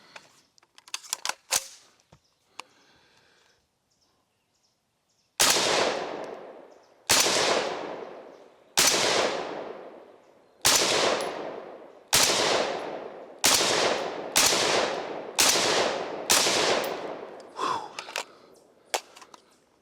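A Kel Tec RDB-C rifle fires 62 grain ammunition, about nine sharp, loud shots spaced a second or two apart, each followed by a brief decaying echo, with a couple of quieter clicks and handling noises before the string.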